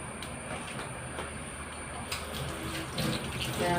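A kitchen tap runs as hands are washed under it, a steady, close splashing flow of water that swells slightly toward the end, with no talking.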